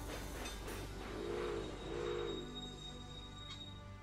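An express passenger train in the Railway Empire railway game rumbles past with a low steady roll, two rising-and-falling wheel whines, and a faint hiss, at moderate distance and fairly quiet.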